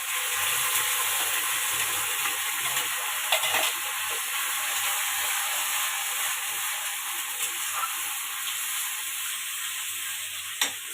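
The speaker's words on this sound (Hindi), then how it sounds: "प्याज जीरा का फोरन दिए हैं।" Onion and cumin sizzle steadily in hot oil for a tempering, a close, even frying hiss with a few faint clinks of stirring and no talk.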